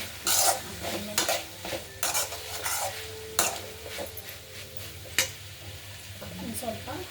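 Okra stirred into softened tomato in a hot pan, sizzling steadily while a spoon scrapes and clacks against the metal in repeated sharp strokes, close and fairly loud throughout.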